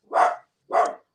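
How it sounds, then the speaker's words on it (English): A dog named Thumper lets out two short, separate barks close by, with a brief pause between them and no other sound around. "Apologize about my dog, Thumper."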